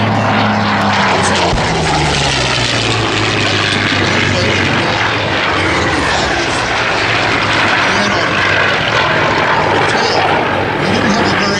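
A propeller-driven warbird, a D-model fighter with a bubble canopy, flies past at the Sun 'n Fun airshow, its loud engine droning steadily and close throughout with a shifting pitch, while a commentator talks over it.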